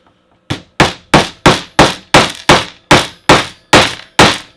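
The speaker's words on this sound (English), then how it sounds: "I can hammer that in place." A hammer drives a T-nut into a hole in a toboggan: eleven sharp, ringing metallic strikes, close and evenly spaced after a short quiet start.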